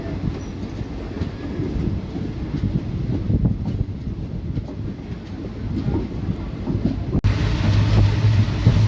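The 11414 Nizamabad Express pulls out from Pandharpur, heard from on board as a steady, loud rolling rumble with wheel clatter and a sudden click before the rumble grows heavier.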